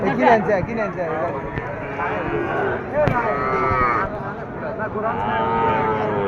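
Cattle at a rural livestock market low and moo under constant nearby talking, with scattered clatter and crowd noise throughout.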